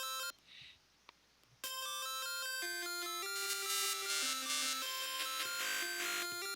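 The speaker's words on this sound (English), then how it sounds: "the music is just a bunch of random beeps and bloops again" Beeping chiptune music from the NES game Action 52, made of a stepping sequence of square-wave tones that change pitch every half second or so, loud and continuous after a brief quieter opening.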